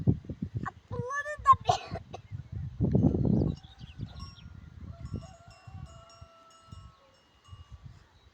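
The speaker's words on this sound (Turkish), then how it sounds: "Alanın ağılında koyunlar var." Sheep in a pen give a few bleats over someone talking outdoors, with children's voices nearby.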